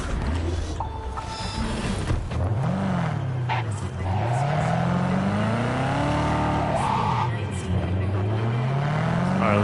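The green Mustang in Cyberpunk 2077 pulls away with an engine that revs and shifts through gears in rising and falling sweeps, close and steady. Someone talks over it.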